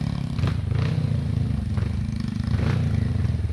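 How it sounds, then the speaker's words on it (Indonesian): A motorcycle throttles up a rocky, steep climbing trail, its engine a low, rough, steady drone mixed with clattering and scraping from the stones, close by and without speech. "Ya si Mongplo mulai mengegas"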